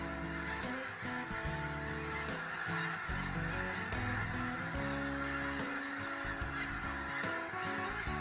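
White-fronted, snow and Ross's geese honk in a dense, continuous chorus, many overlapping calls loud and close throughout, with no talking.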